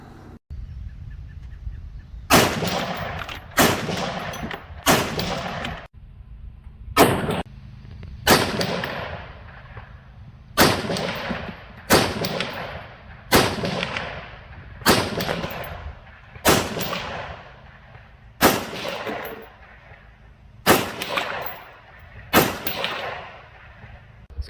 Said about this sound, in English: We were shooting about 200 yards away with the combo